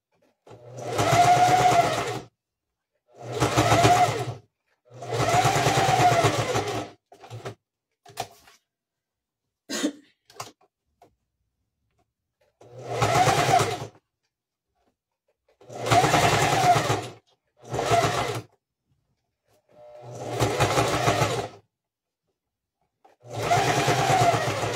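A sewing machine runs a straight stitch on fabric for a Christmas house panettone cover, in about eight steady bursts separated by short pauses, with a few light clicks between runs.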